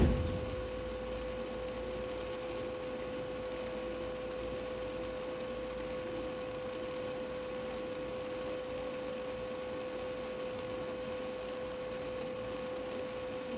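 Steady, even drone of a Honda power tiller rotavator engine idling, constant and unbroken from start to end with a fixed hum, no talking.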